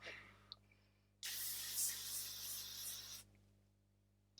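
An aerosol can of makeup setting spray releases a single close, steady hiss lasting about two seconds, with faint clicks just before and after.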